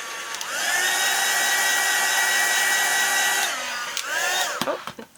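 A hair dryer gently drying a wet-on-wet watercolor tree painting, a steady close whirring blow that runs for several seconds, cuts off, then restarts briefly before clicking off.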